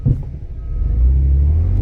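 A 2005 Jeep Liberty engine catches after a brief crank and settles into a loud, rising low rumble that holds steady up close, with no talk over it.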